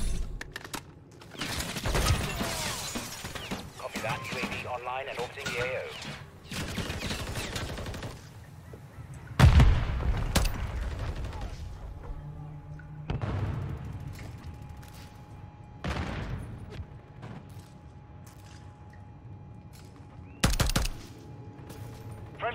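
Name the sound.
gunfire in a shooter video game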